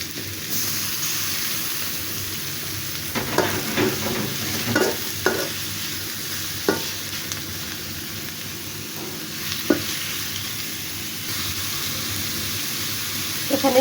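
Chopped tomato and carrot sizzle softly in a pan as vegetables fry for chicken chow mein, a steady hiss broken by occasional spatula scrapes and stirring clatter.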